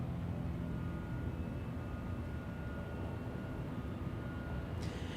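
A Pilatus aircraft operated by Life Flight Network at Anchorage airport gives a steady, distant engine drone that stays even and moderately faint throughout, with no talk.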